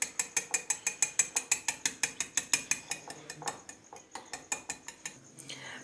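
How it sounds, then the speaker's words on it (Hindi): Eggs whisked into milk in a metal bowl for halwa, a fast steady run of sharp rhythmic clinks and scrapes from the whisk, loud and close, slowing slightly toward the end. "अब अंडों को दूध के अंदर फेंट लेंगे।"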